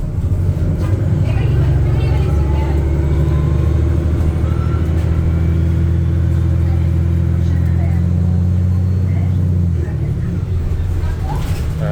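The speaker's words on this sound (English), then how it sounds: "let you hear the natural engine sounds of the hybrid bus" An STM Montreal hybrid city bus from 2017, heard from inside on an overnight route, gives a loud, steady low engine drone that holds for most of the ride and eases slightly near the end.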